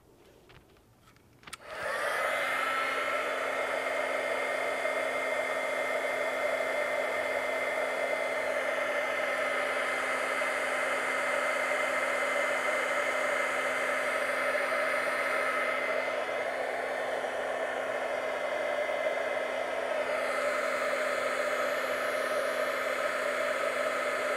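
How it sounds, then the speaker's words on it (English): An embossing heat tool switches on after a moment of quiet and then blows hot air in a steady, loud whirring roar that stays constant throughout. "And now we're ready for the heat tool."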